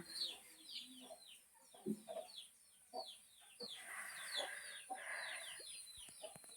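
Chickens cluck and chatter in a busy flock, with sharp squawks and chirps scattered throughout at moderate distance.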